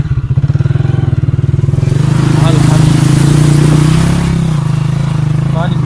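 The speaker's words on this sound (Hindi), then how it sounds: "तो हम बाइक को इसमें से पार करेंगे।" A motorbike engine chugs steadily up close as the bike rides through a shallow stream of cold water on a damaged riverside track in Sindh, its rhythmic thrum rising briefly with splashing, while a voice speaks over it.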